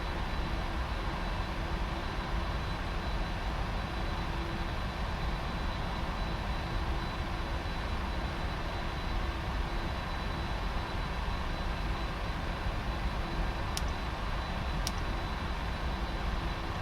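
Boeing 747-400 jet engines in the PMDG add-on for the FSX flight simulator give a steady, even, faint broadband roar. It runs unchanged throughout with no voices.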